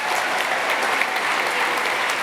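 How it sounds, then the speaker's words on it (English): A gala audience at a fiftieth-anniversary celebration breaks into loud, dense applause for the sign language specialists, a full, even wash of clapping from many hands close by. "Could we also have a big round of applause for our sign language specialists?"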